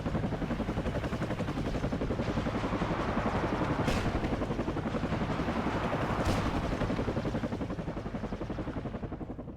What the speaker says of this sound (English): Another AH-5F helicopter coming in